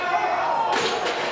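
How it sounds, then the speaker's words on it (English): A chair strikes a wrestler's head during an indoor wrestling match in an arena, a loud sharp crack and then a second impact over a constant crowd roar. "Homicide just KOs White Trash in the head with a chair"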